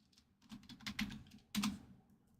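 Quick bursts of clicking keystrokes on a computer keyboard, close and fairly quiet, coming in uneven runs with a denser flurry near the end.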